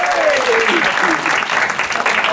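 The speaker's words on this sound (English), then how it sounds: "applause for Cenk Hoca" Loud, sustained audience applause in a room during a presentation, dense clapping throughout with a brief voice sliding over it near the start.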